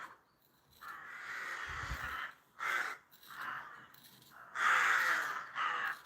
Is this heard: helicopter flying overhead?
no